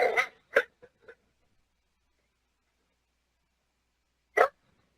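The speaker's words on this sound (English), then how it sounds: "there's a stranger that has come in and the dog's barking" A few sharp barks from a dog, a quick cluster at the start and one more after a silent pause, close by.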